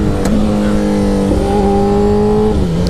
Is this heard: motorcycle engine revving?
yes